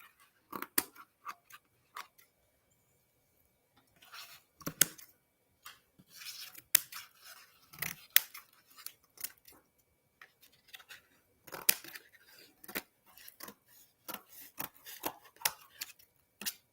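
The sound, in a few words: cutting plant stems with scissors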